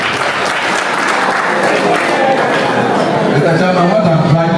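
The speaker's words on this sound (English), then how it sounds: "Clap for yourself." A crowd of students claps for themselves during a college SRC week celebration, loud sustained applause blended with cheering and chatter that swells toward the end.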